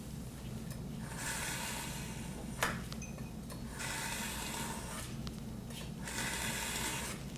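Knife blade drawn through the coarse slot of a sharpener, three rasping grinding strokes in a steady rhythm, close and fairly quiet, with no talk over them.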